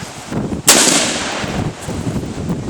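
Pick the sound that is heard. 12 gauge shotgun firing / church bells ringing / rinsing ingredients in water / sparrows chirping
12 gauge shotgun firing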